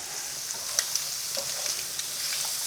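Shrimp sear in a hot pan with a steady, close, bright sizzle and a few small pops and crackles, with no one speaking.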